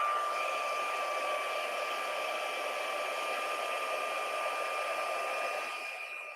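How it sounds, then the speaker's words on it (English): A heat tool blows steadily on a craft project to heat set it, a continuous even whoosh with a faint whine, close and unbroken for several seconds before easing off at the end, no voices. "I'm going to go ahead and heat set this."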